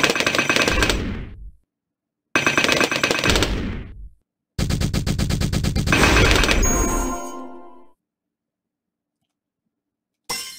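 A twin-gun tower in Bloons Tower Defense 5 fires three loud bursts of rapid, rattling shots separated by short silences, the last burst longest before a brief restart at the end.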